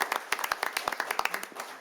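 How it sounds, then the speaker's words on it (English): Sparse, distinct handclaps from a small city council audience applauding award recipients, a quick irregular patter of claps at moderate volume, with a faint voice underneath. "One more big round of applause for every recipient"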